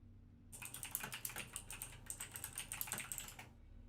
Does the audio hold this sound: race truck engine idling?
no